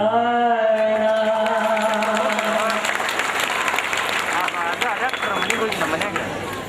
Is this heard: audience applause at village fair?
yes